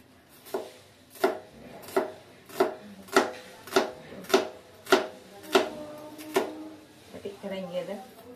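Onion being chopped on a board, about ten evenly spaced sharp knife strikes in a steady rhythm, close and fairly loud, followed by a short stretch of rustling and handling.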